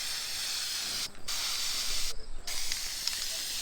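Spray paint can spraying black paint outdoors in wind, a loud continuous hiss broken by two short pauses where the nozzle is released, then resumed.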